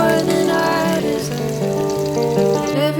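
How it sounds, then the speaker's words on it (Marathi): Onion frying in a pan for a methi paneer dish, a loud continuous close sizzle with steady crackle throughout, no speech over it. "कांदा थोडा व्यवस्थित फ्राय करून"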